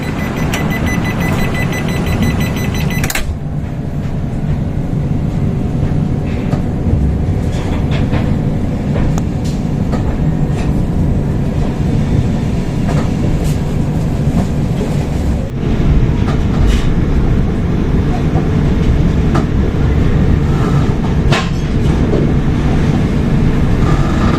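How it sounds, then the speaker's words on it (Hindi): The August Kranti Tejas Rajdhani Express runs steadily out of Mumbai Central after departure, a continuous loud rolling rumble with occasional rail clicks and bumps, heard from on board with no talking. "तो ऑन टाइम 5:10 पे ट्रेन का डिपार्चर हो चुका है मुंबई सेंट्रल से"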